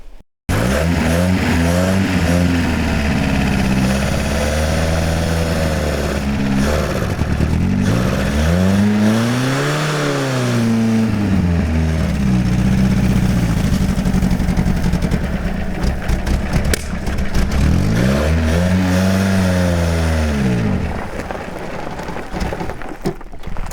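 An old 1977 Toyota Celica engine runs continuously and loudly, revving up and down in repeated swells, rough and sputtering between rises as it threatens to die.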